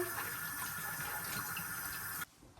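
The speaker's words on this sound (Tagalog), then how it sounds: "Hugasan rin natin yung pechay." Pechay leaves being washed under a running kitchen tap, a steady broadband rush of water that flows continuously and then cuts off abruptly near the end.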